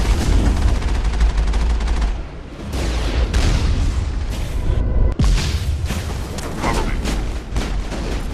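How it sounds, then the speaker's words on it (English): An armored Mako vehicle fires on a towering Geth Colossus in the Mass Effect game, a loud, dense barrage of rapid gunfire and booming impacts that pauses briefly before resuming. "just keep shooting, and the Geth Colossus is no big deal when you're in a Mako"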